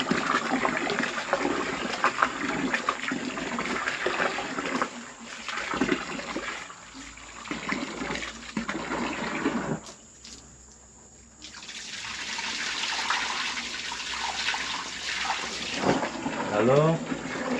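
Soybeans being rinsed in water while making tempe, a steady wash of running and splashing water over several seconds that pauses briefly, then resumes, close by, with a voice faintly underneath.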